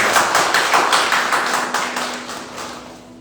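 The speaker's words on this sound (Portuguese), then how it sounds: "Aplauda o Senhor Jesus." A church congregation claps steadily together during a worship service, a dense rhythmic applause that gradually fades over a few seconds.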